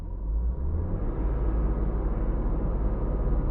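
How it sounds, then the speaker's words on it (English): The viscous engine cooling fan of a Nissan Skyline R31 wagon with an RB engine roars as the engine warms, a steady loud low rumble and whoosh with no voices over it. "the fan is now quite loud, so it spins more quickly as the engine warms."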